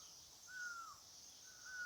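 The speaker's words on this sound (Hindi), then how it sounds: "जैसे यहाँ बहुत सारी चिड़ियों की आवाज़ें हैं" Outdoors, crows caw faintly in the distance while other birds call and a steady high insect or cricket drone fills the background; the scene is quiet and there is no speech.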